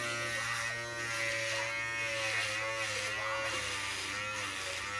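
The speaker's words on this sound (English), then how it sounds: "I'm just going to take this wall super shaver to make sure that I shave down to the skin" A Wahl Super Shaver buzzes steadily close up, shaving hair down to the skin during an at-home haircut, with a constant electric whine that wavers slightly in pitch as it moves across the head.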